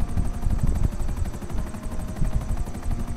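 A helicopter in the video game Grand Theft Auto V, its rotor giving a steady rapid chopping thump close and loud throughout, with a faint engine whine above.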